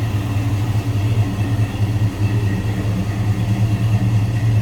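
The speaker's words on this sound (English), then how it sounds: "Listen to that rumble on low idle." A 1970 Chevrolet Chevelle SS tribute idling low, its engine giving a loud, deep, steady rumble with a throbbing pulse, heard up close from the rear of the car with no talking.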